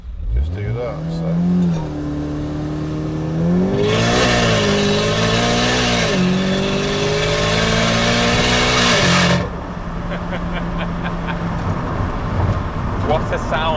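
A 750bhp SEAT Leon Cupra with an external wastegate accelerates hard and close, its engine note climbing and holding loud through the gears before backing off, with people talking alongside.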